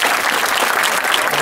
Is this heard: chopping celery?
no